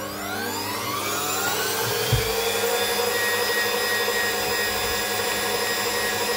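A blender runs steadily on garlic-flower pesto, a loud continuous motor whine with rising harmonics as the blades spin up, holding an even level throughout with one brief low thump early on.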